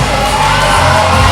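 A packed wrestling crowd at a main event screams and cheers, a loud continuous roar that fills the whole moment with no single voice standing out.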